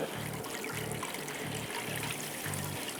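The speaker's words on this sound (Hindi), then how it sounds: "पानी जो है वो डाल दूँगा इसके अंदर" Water poured from a vessel into a cooking pot on a lit stove while making mandi rice, a steady close trickle and splash that runs continuously with a faint low rhythmic pulsing underneath.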